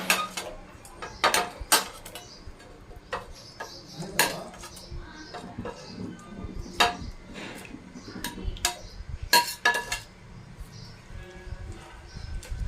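Whole brinjals drop one by one into a metal pan for stuffed brinjal curry, each landing with a sharp clink or clatter at an irregular pace, close by, over a soft background hiss.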